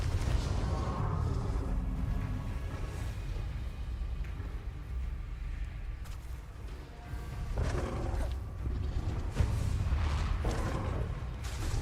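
Bombarda and Confringo spells explode in the Hogwarts Legacy video game, sounding as repeated heavy booms and rumbling blasts over a dense background of battle noise, with several louder impacts scattered across the stretch.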